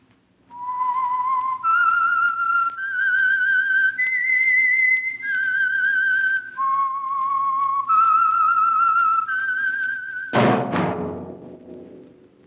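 A whistled theme melody for a mystery radio drama, a slow sequence of clear sustained notes that rise and fall, ending in a sudden loud percussive hit with a ringing decay.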